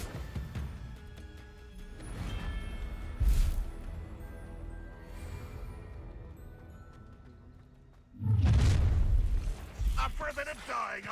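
Confringo blasting spell in the Hogwarts Legacy video game, a heavy booming explosion near the end after a softer earlier blast, with a voice casting spells beneath the game sounds.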